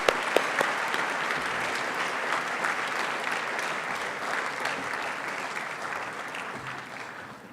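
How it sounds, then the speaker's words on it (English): A banquet audience at a real estate hall of fame induction gives a full round of applause, dense and sustained clapping from many hands that slowly tapers toward the end. "Would you please give a round of applause for Elizabeth Youngblood?"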